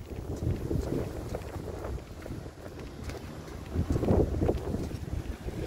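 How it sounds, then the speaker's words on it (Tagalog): Steady outdoor wind rushing and buffeting against the microphone, a continuous low rumble that swells slightly midway, with no talk. "Hangin po siya."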